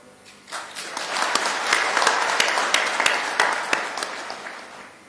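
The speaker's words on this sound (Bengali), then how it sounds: "এই হাততালি আপনাদের প্রাপ্য" A crowd applauds during a national address by Dr. Yunus; the clapping swells in after a quiet start, stays full and even with crisp individual claps, then eases slightly at the close.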